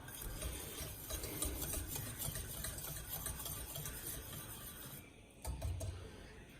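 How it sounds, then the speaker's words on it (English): A spoon stirs a bourbon beer glaze in a pot over high heat, giving a continuous close scraping and swishing with faint bubbling, briefly easing before resuming. "You want to bring it up to a nice boil while you're stirring it."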